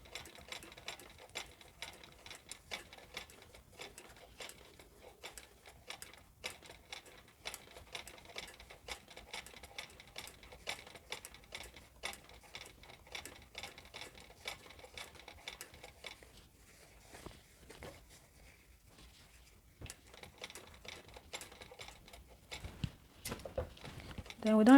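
A sewing machine runs in rapid ticking bursts while joining and back stitching trouser pockets, the close, light mechanical patter continuing through short pauses, with a person talking over it at times.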